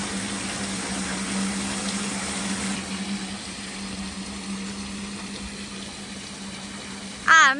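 River water flows steadily into an IBC container at an off-grid property in Portugal, a constant close trickling and rushing with a low hum underneath and a brief sharp noise at the end.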